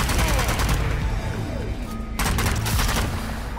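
Enemy gunfire in the zombie shooter Zombie Army 4: Dead War, a loud, nonstop, close barrage of rapid automatic shots with booming layers and a brief drop in intensity midway.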